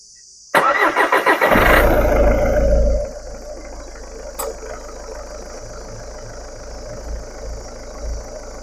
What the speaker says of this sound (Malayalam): അപ്പോൾ എൻജിൻ സ്റ്റാർട്ട് ചെയ്യാൻ പറയുന്നുണ്ട്